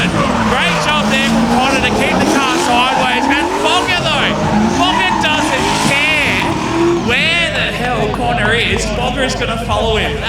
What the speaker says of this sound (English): Great job there from Connor to keep the car sideways.